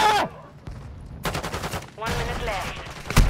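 Bursts of gunfire in Call of Duty MW2 ranked multiplayer, rapid broadband cracks in clusters with brief gaps and a final loud shot, mixed with game sound and a voice.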